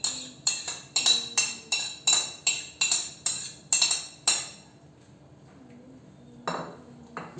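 A quiche dish and metal utensils clink and clatter in a kitchen, a quick regular series of sharp knocks followed by a pause and then one more clatter, close and clear.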